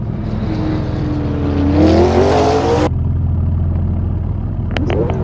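A car drifts in the racing game Assetto Corsa during a police-versus-street-racers chase, its engine revving up in a rising whine over a broad hiss of tyre noise that cuts off sharply, followed by a lower engine drone.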